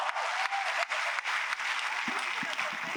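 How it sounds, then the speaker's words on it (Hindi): An audience at a Hindi comic poetry gathering applauds poet Dinesh Bawra, giving steady, full clapping that carries on with a voice starting to speak beneath it toward the end. "दिनेश बावरा के लिए जोरदार तालियां बजाइए।"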